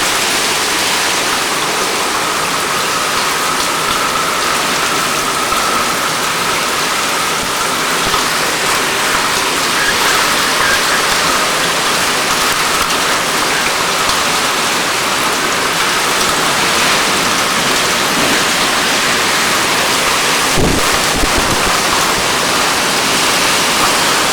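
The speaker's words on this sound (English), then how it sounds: "Getting some good gusts now." Heavy rain from Hurricane Charley in 2004 pours in a constant loud roar, with wind gusting through it and a brief thump near the end.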